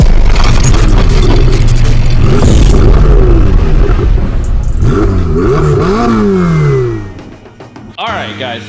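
A 2021 C8 Corvette, slated for a twin-turbo build, revs loudly and repeatedly up close, with rising and falling engine sweeps that fade out near the end under background noise.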